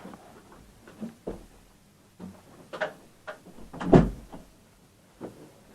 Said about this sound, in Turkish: geldim kapıyı kapattım